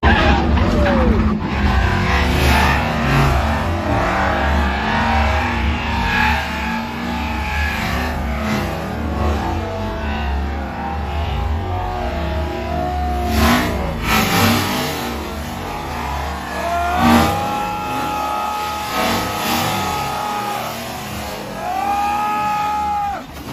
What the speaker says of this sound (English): Big impact, big hit into the wall, and that is a destroyed Audi